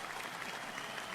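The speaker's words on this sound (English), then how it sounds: "I'll even give you an applause for shaking off the cracked rib and staying in the game for coaching" Applause from an audience at a radio talk show, a brief steady patter of clapping heard faintly at a moderate distance, with no voices over it.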